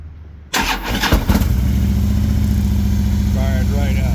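A Harley-Davidson Road King motorcycle with a freshly replaced battery cranks briefly, then fires and settles into a loud, steady, close-up rumbling idle that keeps going to the end.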